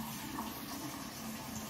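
Tap water runs steadily while rinsing Artius Man beard wash and conditioner out of a beard, a continuous close splashing rush with no voices over it.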